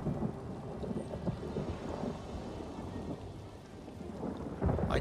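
Steady heavy rain pours through a thunderstorm in the video game ESO Morrowind, with low thunder rumbling throughout and a louder crack of thunder near the end.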